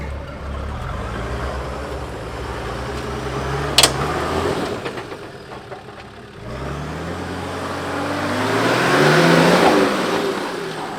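A Nissan Patrol 4WD engine revs hard while climbing a steep, rocky step into a big hole, rising and falling in pitch, cutting out briefly with a sharp knock, then building again to a loud, strained roar.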